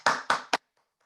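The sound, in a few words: round of applause from online meeting participants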